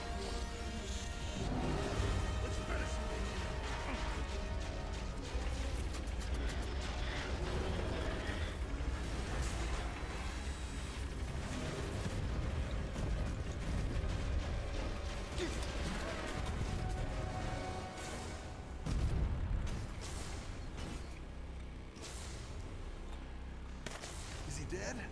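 A partner's weapon fires during a chaotic firefight in the video game Inversion, with loud blasts and crashes mixed into a dense, busy battle soundscape throughout.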